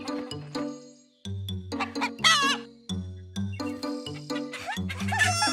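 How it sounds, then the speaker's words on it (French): Cartoon chickens clucking in a farmyard, a run of short, lively clucks and squawks from several birds, close and fairly loud against a light musical backing. "Dans la basse-cour, Caillou a vu des poulets."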